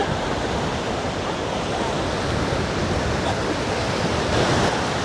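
Rough sea waves at a sandy beach on Zakynthos, heard as a continuous, loud wash of surf with wind noise throughout.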